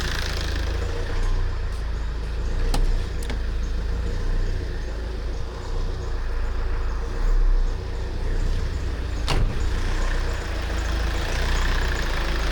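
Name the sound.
Tata Safari Dicor engine running, AC condenser fan switching on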